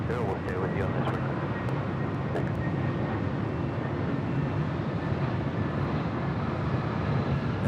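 A Delta airliner roars down the runway on takeoff at Los Angeles International Airport, a steady, loud and dense jet-engine rush that holds without pause from a moderate distance.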